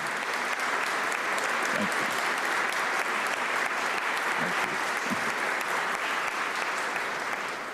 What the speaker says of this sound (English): I think those applause were actually for you